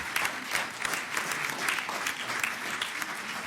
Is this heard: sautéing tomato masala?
no